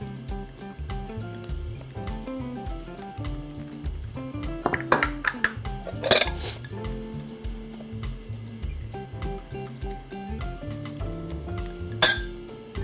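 Baking dishes clink sharply a few times as soft butter is spread inside them, brief glassy taps rising over steady background music.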